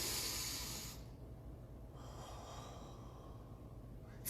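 Deep, slow breathing shown as a breathing technique: one strong, loud airy breath for about a second, then a softer, steady rush of air that continues to the end, with no talking.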